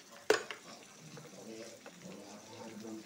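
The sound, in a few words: chopped onion and curry leaves frying in pan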